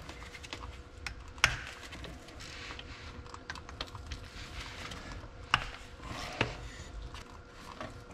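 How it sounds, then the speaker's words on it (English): Bolts being taken off the perimeter of a brake cover on an 1855 Oliver brake during restoration, heard as scattered metallic clicks and taps with a few sharper clanks over a low workshop hum, no voices. "Now we're just taking off the bolts on the perimeter of the cover here"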